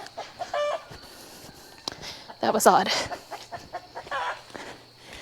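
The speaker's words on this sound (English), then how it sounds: "These are all the roosters" Roosters cluck in short, close, intermittent bursts, with a louder flurry in the middle, as a person speaks briefly over them outdoors on a farm.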